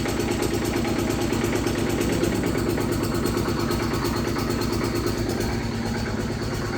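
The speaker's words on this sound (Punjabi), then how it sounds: "ਡੈਡੀ ਲੱਗਿਆ ਇੰਜਣ ਦੇ ਨਾਲ ਪਾਣੀ ਕਰਨ" An engine driving a pump for fresh water, running steadily with an even low throb and rhythmic pulsing, close and loud throughout with no voices.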